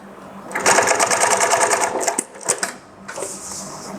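A Highlead GC20618-2DZA Durkopp-style double-needle sewing machine runs a loud, close burst of rapid stitching, then gives short mechanical clicks and whirs as the thread trimmer cuts the upper and lower threads.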